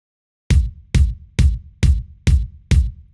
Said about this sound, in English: I found a really beefy bass drum, which sounds like this without any of the plugins.